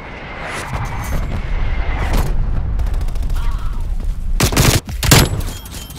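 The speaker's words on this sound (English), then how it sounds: "Hostile artillery targeting active. Net call, incoming artillery." Incoming artillery strike in Call of Duty Black Ops Cold War, a dense volley of gunfire and booming explosions with two heavy close blasts near the end, under constant game noise.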